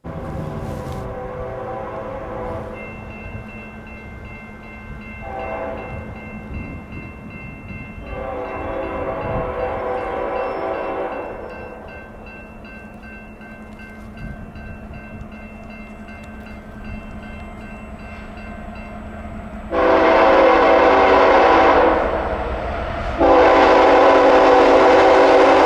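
Freight train I-171 led by two diesel locomotives blasts past at high speed, a steady rumble of rolling cars beneath repeated loud horn blasts, with the roar swelling sharply as the engines come close near the end.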